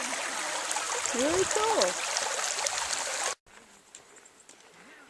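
A creek bubbling up out of the sand, a steady trickling water wash heard close, with a person speaking over it before the sound cuts to a quieter stretch.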